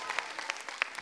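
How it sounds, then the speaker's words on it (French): A French television studio audience applauding, brisk and steady clapping that runs right through the brief moment with no voices over it. "On applaudit."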